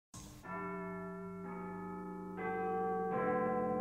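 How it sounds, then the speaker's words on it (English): A church bell tolls midnight on a foggy night with rich, ringing overtones, several strikes spaced about a second apart, each hum lingering into the next. "Then he heard a church bell ringing."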